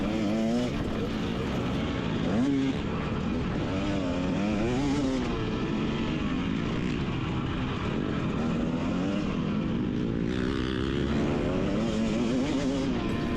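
A Yamaha dirt bike races in a GNCC off-road event, its engine a loud, continuous buzzing drone that surges and falls with throttle changes, heard up close from the rider's position amid other bikes.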